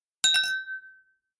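A bright metallic ding rings out, struck quickly two or three times in a cluster, then one clear tone lingers and decays for about a second in silence.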